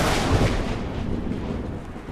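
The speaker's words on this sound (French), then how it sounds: "le bruit du tonnerre" Thunder from a violent storm directly overhead rolls as a deep, loud, continuous rumble that swells early and then slowly fades.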